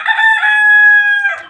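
Roosters crowing in a yard, with one long, loud, close crow held steadily for over a second, wrapped in brief clucking at its start and end; no talk is heard.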